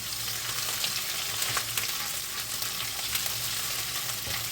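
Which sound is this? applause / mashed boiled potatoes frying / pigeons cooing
mashed boiled potatoes frying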